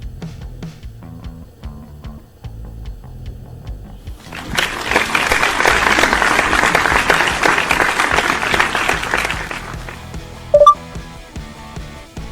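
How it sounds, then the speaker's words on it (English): Applause sound effect played back by a Python Jarvis chatbot on command: a few seconds of tapping and clicks, then a loud, dense burst of crowd clapping for about six seconds, ending with a short electronic beep. "Give me an applause."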